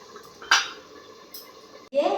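A lid is set onto a cooking pot of soft-boiled bottle gourd in a home kitchen, giving a sharp metallic clink, a second lighter clink, then a dull settling clatter, fairly close with quiet room noise around it.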